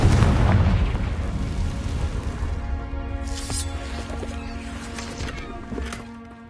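A Confringo fire spell explodes in the Hogwarts Legacy video game, opening with a loud, deep boom that rumbles and slowly decays, with sharp crackles and pops scattered over the fading blast.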